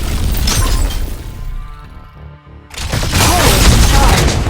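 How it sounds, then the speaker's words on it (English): Energy autocannon fire from a mech in Mecha BREAK: dense, loud bursts of mechanical shots and impacts fill the opening, break off briefly, then resume as a sustained rapid-fire barrage. "The energy autocannon can be used to attack distant targets."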